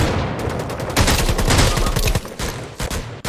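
Rapid bursts of gunfire from the video game Rules of Survival crackle in quick succession, loud and sharp, with a brief lull and a few scattered shots near the end.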